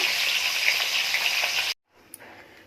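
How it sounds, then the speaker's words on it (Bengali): Fish frying in hot oil for a Bengali green fish curry, giving a loud, steady broadband sizzle that cuts off abruptly, followed by quieter kitchen noise and a brief clink. "মাছটা ভেজে নেব।"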